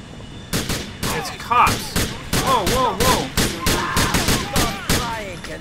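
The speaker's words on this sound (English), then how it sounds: "We got somebody shooting off rounds over here." Gunfire from airport security in GTA 4, a rapid series of sharp, loud shots in irregular bursts, with someone briefly talking between them.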